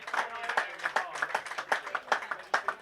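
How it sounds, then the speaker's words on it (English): Crowd applause with scattered clapping for a batsman walking off after his innings at a Sussex Slam 2022 cricket match between Hailsham Royals and Robertsbridge Renegades, steady uneven claps at moderate distance with a voice faintly mixed in. "Round of applause for Tom."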